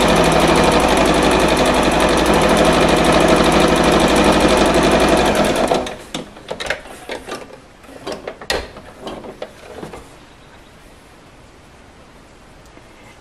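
A sewing machine runs in straight seams joining fabric strips for a crumb quilt block, a loud steady mechanical whir for about six seconds, then stopping and leaving soft handling clicks and rustles of fabric.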